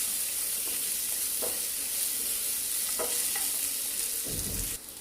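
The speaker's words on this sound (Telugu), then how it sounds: "ఆనియన్ వేసుకొని బాగా ఫ్రై చేసుకోవాలి. హై ఫ్లేమ్ మీద ఫ్రై చేసుకోవాలి." Onions frying on a high flame, a steady loud sizzle with a few clinks of stirring, and a thicker burst of frying noise near the end; no talking.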